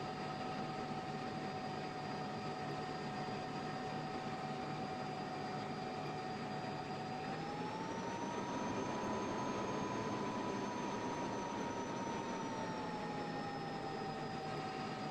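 Constant whining turbine hum of an F-16 jet taxiing in the Falcon BMS flight simulator, a steady engine drone whose pitch rises midway and settles again, with no voices.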